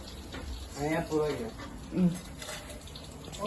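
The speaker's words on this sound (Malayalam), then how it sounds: "വാട്ടർ ഓളെ കുപ്പിയിൽ നിറക്കാണ്." Water runs steadily into a bottle beneath a person talking nearby, the pouring a continuous rushing wash.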